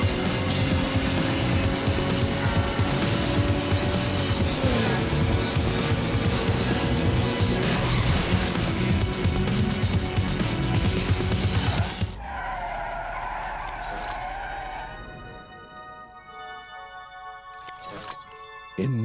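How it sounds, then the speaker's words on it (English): Racing cars in the video game Need for Speed Underground skid with a long, loud, continuous tire squeal and engine noise that cuts off abruptly, followed by quieter game sounds. "Need for Speed Underground is a very playable, visually spectacular installment in an ever-growing series."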